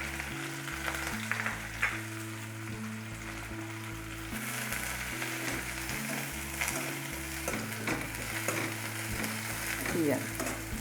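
Ginger, garlic and curry leaves sizzle and crackle in hot oil close by, a dense continuous frying hiss with occasional stirring, while background music plays.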